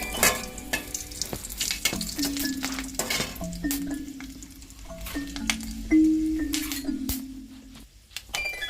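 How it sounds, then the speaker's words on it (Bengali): Bay leaf and whole dried red chillies fry in hot oil, giving a steady close sizzle and crackle with a few light metal clinks from a utensil against the pan. No one speaks. "এবার আমার তেল গরম হয়ে গেছে। আমি তেজপাতা দিয়ে দেবো, গোটা শুকনো লঙ্কা দিয়ে দেবো,"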